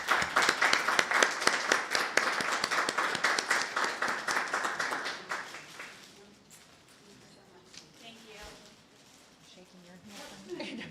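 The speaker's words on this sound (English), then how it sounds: "we'll give you a round of applause" A board of education meeting audience applauds loudly for about five seconds, dense clapping that then fades out, leaving quieter room noise and faint talk.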